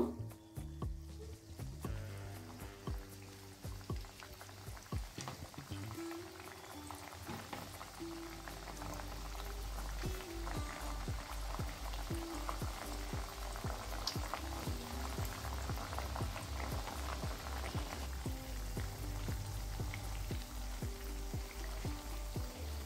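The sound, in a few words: sweets deep-frying in oil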